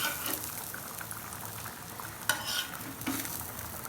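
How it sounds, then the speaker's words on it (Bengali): Dal with pieces of fried egg stirred in a pot: soft, wet scraping and stirring over a low bubbling simmer, fairly quiet and close, with one sharper clink partway through. "দিয়ে এখন একটু নাড়িয়ে দিই"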